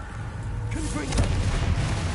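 Fire-blast spell explosion in Hogwarts Legacy, a loud, sustained booming burst with crackling energy over a constant rumbling game backdrop, with a voice briefly calling out.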